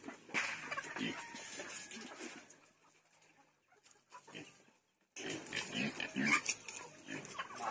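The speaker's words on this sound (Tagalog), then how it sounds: "Nag-cry ang pig." A pig squeals in loud, close, harsh bursts. A quiet pause follows, then the squealing returns more intensely.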